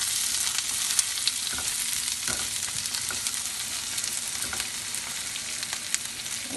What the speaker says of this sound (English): Sauteing it, just saute, just short saute.